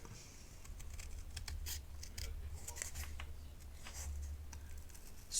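Scissors snip through two stacked layers of scrap paper, giving a steady run of close, crisp cuts and rustles with no talking.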